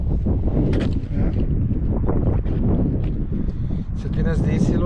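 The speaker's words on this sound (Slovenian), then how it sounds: "Se ti ne zdi, Silvo, da preveč piha?" Strong wind gusting against the microphone on an outing in Bosnia, a loud continuous roar and buffeting that nearly masks people talking underneath.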